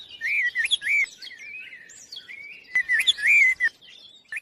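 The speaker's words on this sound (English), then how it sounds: "have you ever seen a bird this beautiful?" Small bird chirping and tweeting up close, bright rising and falling calls in two quick bursts separated by a quieter stretch, with no talk.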